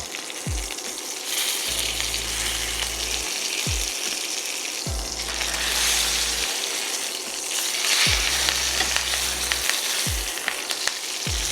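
A sous vide USDA Prime steak sears in hot oil and butter, giving a loud, steady sizzle and frying hiss. Low knocks and scrapes from the pan recur every few seconds beneath it.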